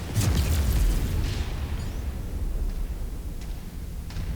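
Artillery shells exploding in the mech combat game Mechwarrior 5 Mercenaries: a loud booming blast up front, then rumbling explosions and debris rolling on, with a few sharper distant bursts later.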